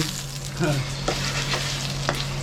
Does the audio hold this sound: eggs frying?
yes